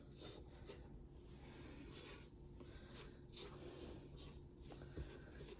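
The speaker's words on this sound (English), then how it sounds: "Make sure to scrape down your sides." A spatula or spoon scraping down the sides of a bowl of Mexican wedding cookie dough, making repeated soft raspy strokes in an even rhythm, quiet and close, with no talking.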